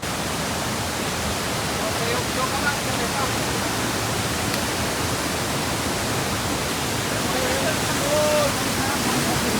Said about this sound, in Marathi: बघा या झाडाच्या आडातून दिसतोय धबधबा.